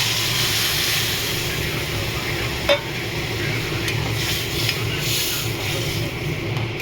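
Boiled dal goes into a frying pan with ridge gourd, giving a steady sizzle and stirring noise with one brief clatter partway through, close and continuous.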